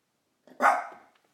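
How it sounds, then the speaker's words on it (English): A dog gives a single short, sharp bark at fairly close range, a quick isolated outburst in an otherwise quiet moment. "Oh, there's my dog. My dog doesn't like this guy either."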